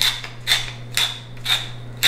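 A pepper mill grinds in four or five crisp, gritty bursts at a steady rhythm, close by and alone, as freshly ground pepper goes into rotisserie chicken bone broth.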